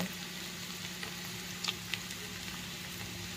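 Garlic and cumin frying in hot oil with mustard seeds that have already crackled, tempering a spiced fritter batter base; a steady soft sizzle with a couple of faint pops and no talk.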